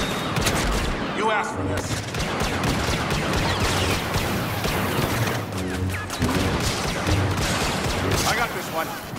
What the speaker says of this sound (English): Nothing beats a good blaster.